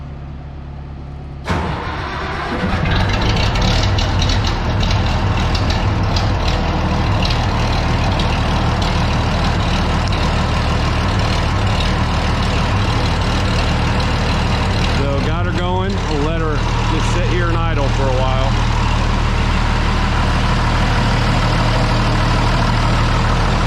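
A Minneapolis Moline tractor engine kicks over and settles into a loud, steady low idle close by, with a brief wavering whine partway through and no talk.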